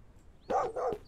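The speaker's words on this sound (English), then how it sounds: "Who's barking?" A dog gives two quick, sharp barks close by, one right after the other, against a quiet background.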